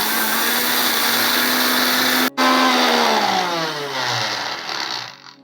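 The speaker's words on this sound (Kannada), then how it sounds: "ಈಗ ಡ್ರೈ ಫ್ರೈ ಮಾಡಿರೋವಂಥ ರಾಗಿನ ನಾನು ಗ್ರೈಂಡರಲ್ಲಿ ಹಾಕ್ಕೊಂಡಿದ್ದೀನಿ" Mixer grinder whirring loudly while grinding dry-roasted finger millet (ragi) into powder, a steady high motor drone that cuts out briefly, restarts, then winds down and stops.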